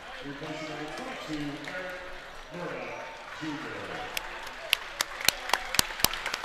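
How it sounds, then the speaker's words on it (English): Home crowd at a college basketball conference tournament game gives a warm hand as a senior player checks out, scattered clapping building near the end under steady commentator talk. "Murdoch gets a nice hand from the crowd."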